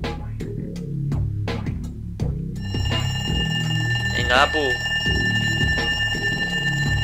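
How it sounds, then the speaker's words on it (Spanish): An amplified alarm clock in a Simpsons video game rings out loudly with a sustained, harsh metallic tone, starting partway through as someone speaks briefly over it. "vamos a probar el despertador amplificado"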